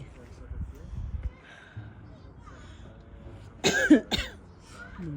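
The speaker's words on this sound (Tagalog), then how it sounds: "Sinisipon na ako at inuubo." Two or three harsh coughs come close together near the end, following quieter breathing and faint background noise.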